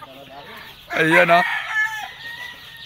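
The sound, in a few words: chickens and chicks clucking in backyard farm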